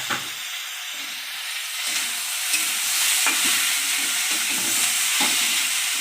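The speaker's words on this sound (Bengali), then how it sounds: "এগুলো ভালো করে ভেজে নেব" Dried fish and chopped tomatoes fry in a pan with a dense, steady hiss and sizzle, close and fairly loud, with a few soft knocks of stirring and no voices.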